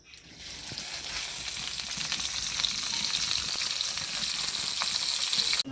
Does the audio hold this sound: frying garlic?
yes